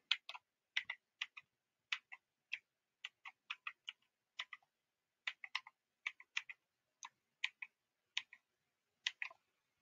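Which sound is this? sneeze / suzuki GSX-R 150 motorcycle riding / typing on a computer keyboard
typing on a computer keyboard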